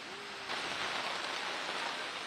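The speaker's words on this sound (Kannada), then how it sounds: "ನಿರಂತರವಾಗಿ ಭಾರಿ ಪ್ರಮಾಣದಲ್ಲಿ ಮಳೆ ಸುರಿತಾ ಇದೆ ಈ ಭಾಗದಲ್ಲಿ" Heavy monsoon rain pouring near a flooded Maruti temple in Khanapur taluk, Belagavi, by the Malaprabha river: a dense, steady hiss of rainfall that swells louder after a brief quieter start, with no talking.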